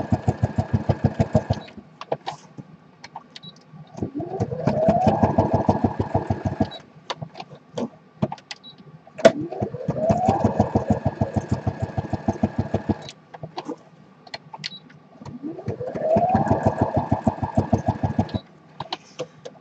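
A sewing machine stitches around the edge of a cloth tag made from feed sack fabric, running in three long bursts of rapid, steady needle hammering separated by short pauses and scattered clicks, close and fairly loud, with no talking.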